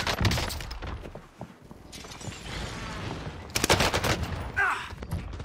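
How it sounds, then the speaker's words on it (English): Precision airstrike explosions in the video game Warzone on the Caldera map, a series of rumbling blasts and crackling bursts amid gunfire, loud and chaotic, with a voice talking over part of it. "Precision airstrike missed."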